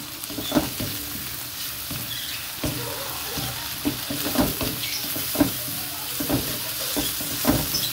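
Corned beef and hotdog frying in a pan as a noodle sauce, with steady sizzling and repeated scraping stirs at a close, moderate level.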